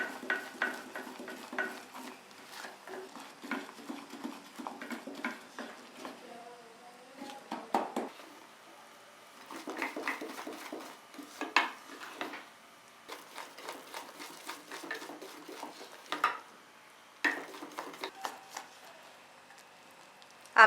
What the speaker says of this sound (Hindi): पकाते दौरान इसको हिलाते रहेंगे।